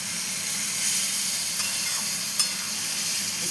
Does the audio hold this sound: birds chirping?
no